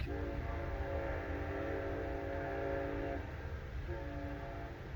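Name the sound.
train horn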